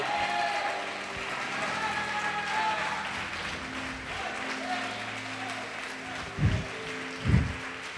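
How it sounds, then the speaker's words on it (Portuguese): A church congregation applauds during a sermon, a steady, moderate clatter of many hands under scattered voices and singing, with two deep thumps near the end. "Pode aplaudir e glorificar."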